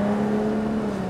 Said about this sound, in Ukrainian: 3-літровий двигун – все, що потрібно для кабріолета